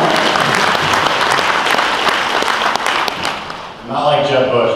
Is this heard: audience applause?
yes